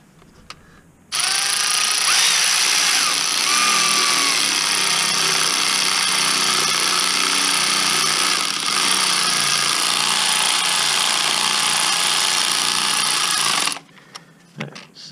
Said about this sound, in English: Let's use our other little ratchet here.